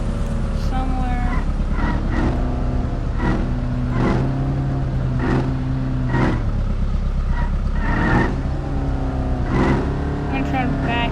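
A squatted truck's engine idles and rumbles steadily while turning a trailer around in a parking lot, a constant low drone with brief louder surges, as a voice talks over it.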